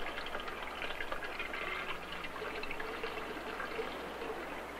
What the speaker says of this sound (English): But if we fill one side with cold water